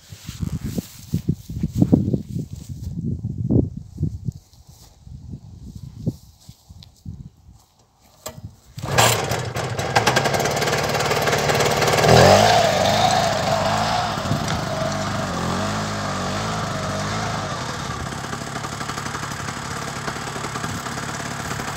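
After a few seconds of scattered knocks and handling noise, a motor engine starts and idles at slightly raised revs, a steady mid-pitched hum with a regular pulsing drone that holds level to the end.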